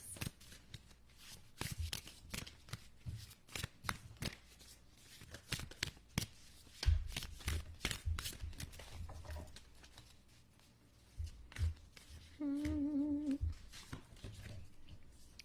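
Black moon astrology cards are shuffled by hand in a steady run of close riffles and flutters, with soft patting between bursts and a brief faint bark partway through.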